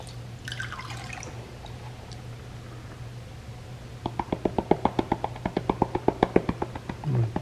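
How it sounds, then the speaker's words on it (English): Water squirted and dripping from a gold panning snuffer bottle being cleaned out over a pan of pay dirt, a quiet hiss at first, then a quick series of about twenty close, sharp drips and splashes. "just cleaning out the snuffer bottle from the double black diamond experts only pay dirt from Gold Nugget Sales"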